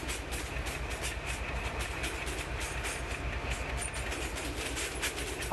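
A train runs along the rail track with a steady loud rumble and rhythmic clickety-clack of wheels over rail joints, continuous and close throughout.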